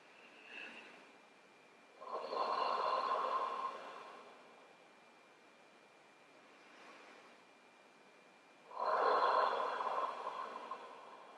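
Slow, deep breathing held during a Hatha yoga pose, two long audible breaths with soft airy exhalations and quieter pauses between them.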